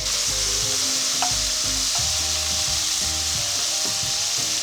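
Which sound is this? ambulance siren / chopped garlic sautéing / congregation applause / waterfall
chopped garlic sautéing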